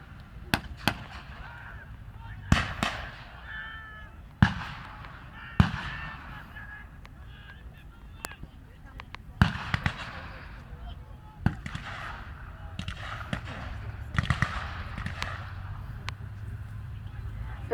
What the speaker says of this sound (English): The sound of firing begins to die down.